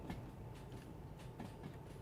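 A locomotive in the train simulation game Derail Valley runs with a faint, low rumble and soft rhythmic clatter, distant and steady.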